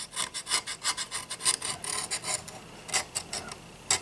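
An X-Acto knife scrapes a powdery coating off the metal of a GE Model X 216A, giving quick close rasping strokes in a steady, uneven rhythm with no one talking.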